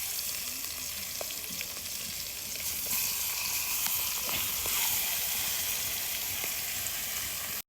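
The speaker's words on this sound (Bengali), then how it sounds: "তেলটা গরম হয়ে গেলে মাছের মাথা দিয়ে দিব" Catla fish head frying in a pan of hot oil, a steady dense sizzle running unbroken throughout with a few faint clicks of spatter, close and fairly loud.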